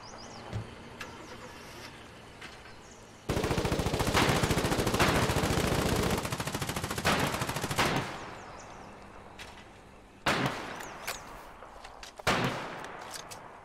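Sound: gunfire in a video game

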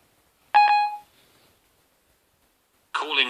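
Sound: iPhone placing a call, dialing beeps

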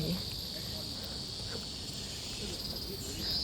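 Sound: crickets chirping

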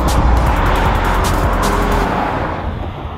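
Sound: 2020 Chevy Blazer RS SUV driving on a curvy road

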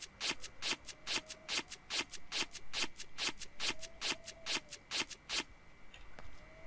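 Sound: ripping items apart in Project Zomboid video game

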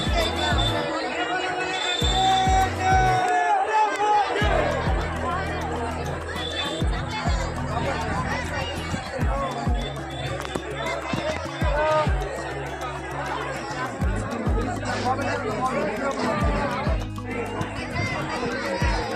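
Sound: crowd chatter at a crowded Mahadev temple

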